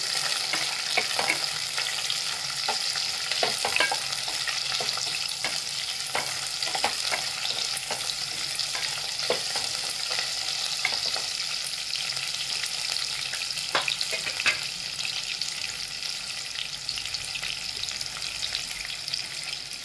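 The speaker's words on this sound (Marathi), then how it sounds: "मसाले चांगले परतले गेले की त्यामध्ये कांदा टाकले" Sliced onions and whole spices fry in hot oil for veg pulav, giving a steady, close sizzle broken by the repeated scrape and clack of a spoon stirring the pan.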